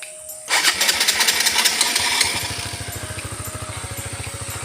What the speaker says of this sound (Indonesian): Kita cek suara mesinnya guys